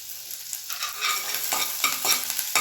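Finely chopped ginger and garlic frying in melted butter for a vegetable soup, a steady close sizzle broken by several scraping stirs of a spoon in the pan.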